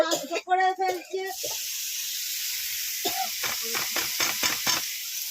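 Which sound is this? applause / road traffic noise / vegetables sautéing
vegetables sautéing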